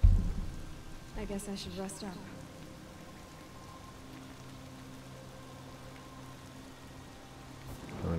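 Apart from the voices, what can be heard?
rain and thunder in video game Horizon Zero Dawn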